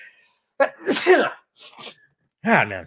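A single sharp human sneeze, loud and close, surrounded by a man's speech before and after it.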